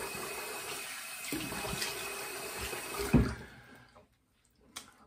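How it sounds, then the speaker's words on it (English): Running tap water splashing steadily while a razor is rinsed, close and fairly loud for about three seconds before cutting off, followed by a quiet tap or clunk. "Let me rinse up here."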